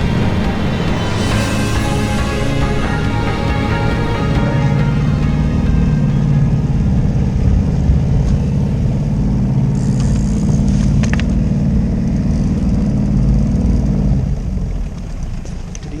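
A motorboat engine drones steadily with a low rumble and rushing water on calm, windless sea, loud and constant before easing off at the very end.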